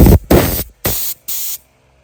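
Compressed air hissing from the hose of an ARB twin under-the-hood compressor on a 2022 Ford Bronco, three short loud bursts and a longer first one, each a broad steady rush with gaps between, no talk.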